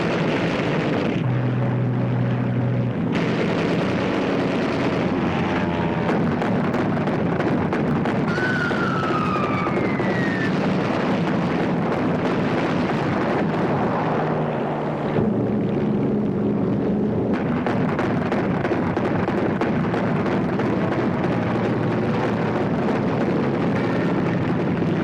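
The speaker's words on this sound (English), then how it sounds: "German aircraft spot the concentration of shipping and attack." German aircraft attacking concentrated shipping at sea in WWII: dense roaring engine noise with rushing turbulence, a descending whine like a diving plane, and booming blasts throughout, loud and continuous.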